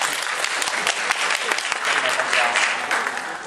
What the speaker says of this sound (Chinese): 让我们掌声欢迎谢尚贤主任